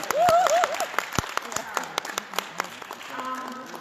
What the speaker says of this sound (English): It's okay, clap.